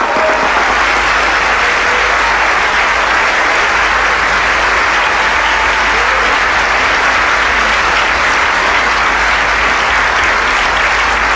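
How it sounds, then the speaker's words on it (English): Audience applause fills the ballroom at the White House Correspondents' Dinner, a loud, dense, sustained clapping from a large crowd that continues without a break. "Please give them a big round of applause."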